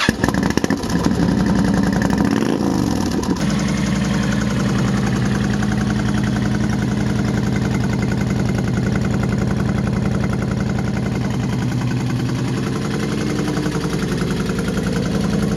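Honda Fury motorcycle fitted with new exhaust pipes, a brief cranking burst followed by a loud, steady, close-up idle with an even thumping rhythm that continues unbroken for the rest of the clip.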